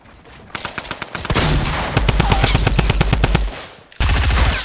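SMG fire in the Fortnite video game: rapid, loud automatic bursts in long continuous strings, breaking off briefly before another sustained burst.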